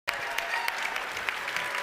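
A live tech product event audience claps steadily throughout, dense sustained applause filling the room with a few sharper peaks, no voice above it.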